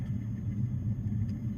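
A spotty, unreliable garage door opener running, giving a steady low mechanical rumble and motor drone that continues throughout at moderate level with no voices.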